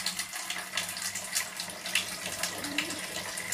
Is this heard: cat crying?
no